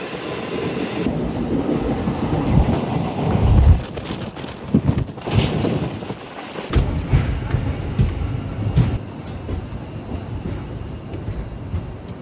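An Indian passenger train pulling out of the station, its carriages rumbling and clattering steadily, with rhythmic clicks of wheels over rail joints close by, swelling and easing over about twelve seconds.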